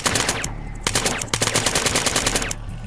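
Automatic assault rifle fire in the shooter game Killzone 3, loud and close, in rapid bursts with a few short breaks and no talk over it.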